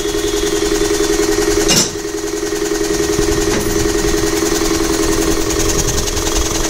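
A 5 hp double-piston air compressor head runs loudly on a test stand, giving a steady, close, pulsing mechanical drone with a brief dip and knock partway through, and no talking.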